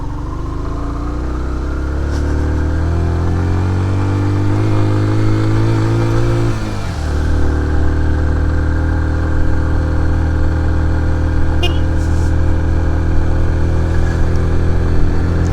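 A motorbike engine drones steadily as it climbs a snowy mountain road near Lulusar Lake. Its pitch rises under load, drops sharply at a gear change, then holds an even mid-pitched labouring hum with no voices.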